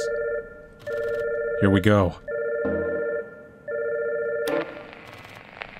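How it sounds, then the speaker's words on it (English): A phone rings from a body's pocket in the video game Catherine, repeated electronic ring bursts with short gaps between them, and a brief spoken remark cuts across the middle. "A communicator's ringing from this body."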